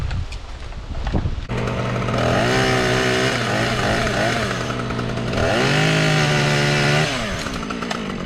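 A wood chipper's small engine sputters, then catches and roars steadily, its pitch climbing as it revs up twice, loud and close.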